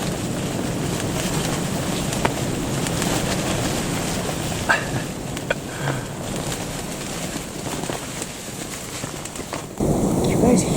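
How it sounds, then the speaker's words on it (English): Strong wind gusts roar steadily outdoors at night during a deer hunt, a broad rushing noise with a few faint knocks, growing louder near the end. "You guys hear that? How windy it is?"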